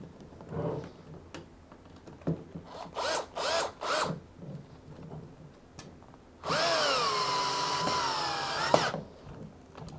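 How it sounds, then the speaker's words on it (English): A power drill set to high torque and low speed drives screws through a retainer into a PVC rail baluster. A few short whirring bursts come first, then one sustained, loud run that slows near its end, heard close up. "It's important at this step to make sure your drill is on a high torque, low speed setting."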